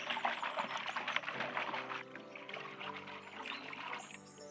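Fresh mint leaves are swished and rinsed by hand in a large vessel filled with water, giving soft close-up splashing and pouring trickles at low volume with no talk.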